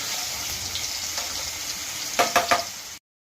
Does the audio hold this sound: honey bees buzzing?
no